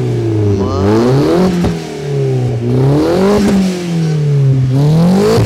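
A 2003 car engine with 400 horsepower revs hard several times through a loud, raspy stainless-steel exhaust, its pitch climbing and dropping in repeated surges at close range.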